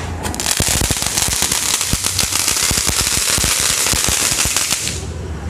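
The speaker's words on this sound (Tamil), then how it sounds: "செக் பண்ணி பார்ப்போம் எப்படி வெடிக்குதுன்னு." A long string of firecrackers bursting in rapid, loud, crackling pops for about five seconds before cutting off abruptly.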